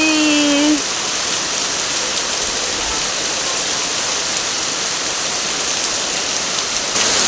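The season's first rain falls steadily, a dense even patter on surfaces with a brief tonal chirp at the very start.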